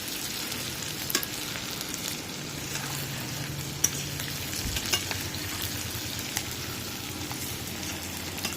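Food frying in hot oil in a pan with a steady, dense sizzle, stirred now and then with faint clinks, heard close and without voices.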